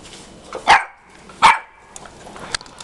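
Dogs barking at a parrot, two sharp loud barks about a second apart followed by faint softer yips and movement nearby, with no talking.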